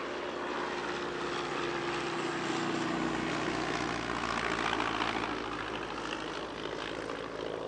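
An SE5A biplane, a First World War fighter, flies an airshow display, its propeller engine droning steadily and loudly throughout with a broad, continuous roar and no voices.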